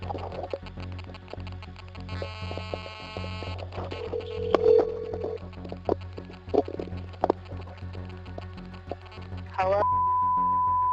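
A telephone call is dialed: a run of tones, buzzes and clicks, ending in a sustained steady ring tone, heard close with no talking.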